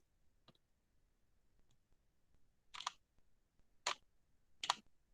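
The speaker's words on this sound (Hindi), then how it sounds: "हाँ, मैंने बहुत नजदीक रखा है कैमरा, मैं क्लिक करती हूँ।" A camera shutter set to a one-second speed, held very close, gives a faint click and then three sharp, loud clicks about a second apart, with no voices.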